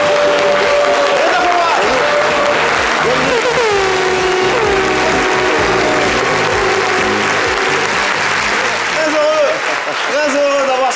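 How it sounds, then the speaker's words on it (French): Loud, continuous audience applause welcomes a guest onto a talk show set, mixed with playing music that carries a tonal melody throughout; crowd noise and voices blend underneath. "souhaitons tous ensemble, sous fond de musique, lumière et applaudissements, la bienvenue"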